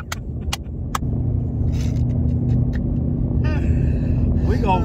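Ford Mustang GT S550 with a poor-sounding exhaust, a steady low rumble throughout, with sharp clicks early on and voices talking over it.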